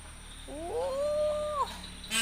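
A cat caterwauls in one drawn-out yowl that bends upward and then holds a wavering, whining tone for about a second before breaking off. It sounds close and carries clearly over a quiet background.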